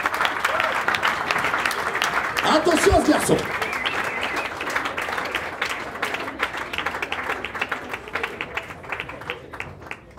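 An audience applauds loudly for a trail runner, dense clapping that swells in the first seconds and then thins while someone speaks over it.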